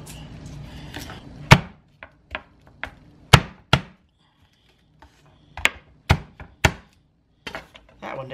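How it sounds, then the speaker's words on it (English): Garlic cloves are chopped with a knife on a cutting board in a home kitchen, sharp irregular knocks in scattered bursts with quiet gaps, close and crisp, with faint speech at the start. "So what I'm going to do is go ahead and get some garlic cut up here."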